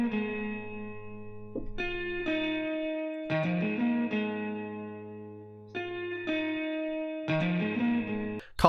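An electric guitar plays a call-and-response part through effects, sustained chorus-and-echo-treated notes and chords alternating in phrases that ring and decay, with no talk.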